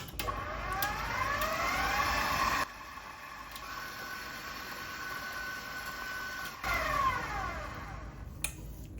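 An electric mixer whirs loudly while beating cookie dough for jam-filled sablés, switching off for a few seconds of quiet hum, then starting up again with a rising whine.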